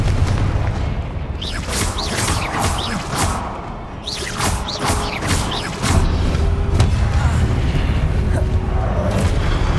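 Blasting-curse explosions in Hogwarts Legacy, with loud, deep booms and whooshing spell effects over a dense battle din, and a heavier rumbling impact about halfway through.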